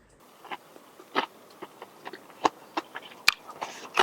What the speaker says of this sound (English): Crunchy chips.